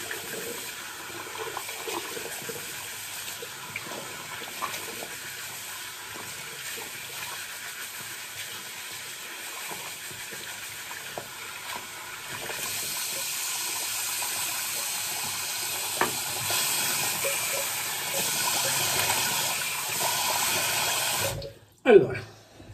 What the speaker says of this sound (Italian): sciacquiamoci il viso